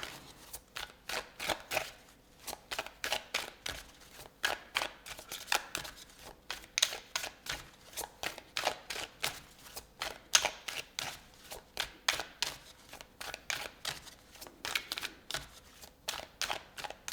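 Tarot cards are shuffled over and over in quick, crisp riffling bursts with a steady rhythm, close and fairly quiet, with no talking.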